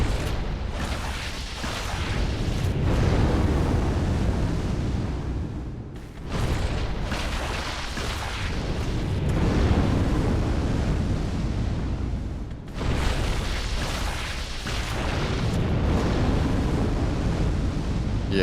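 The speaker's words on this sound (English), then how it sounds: "this fire attack is like broken for some reason" A boss's fire attack in Dark Souls roars as long, loud, rumbling blasts in repeated waves, each swelling and then cutting off, with no talking.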